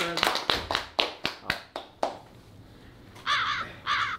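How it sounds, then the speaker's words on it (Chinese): A handful of distinct, sharp hand claps ring out close by in a quick, uneven series for about two seconds, welcoming a guest, followed by a couple of short bursts of voice. "掌声欢迎 Y 先生"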